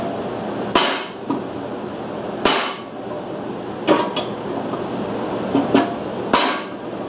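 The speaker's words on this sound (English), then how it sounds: "I'm going to take a ball peen hammer" Ball peen hammer striking metal to make a divot while fitting a water hopper to a Briggs 5S engine, several sharp ringing blows at irregular intervals, close and loud.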